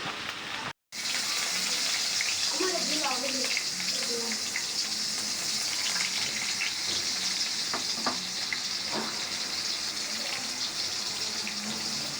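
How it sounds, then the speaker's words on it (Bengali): Potato and onion fry in oil with a steady close sizzle and crackle. Occasional scraping stir sounds and small pops come through, and there is no talking. "এই আলু আর পেঁয়াজ তেলে ভাজা, তারপর শুটকিটা ভাজবো"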